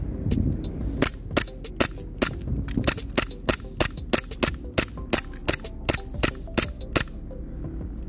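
A tan WE Glock 17 airsoft pistol fires repeatedly at gin bottles, producing about twenty sharp, loud snapping shots in a fairly even, rapid rhythm with brief clinks of the targets, and no voices.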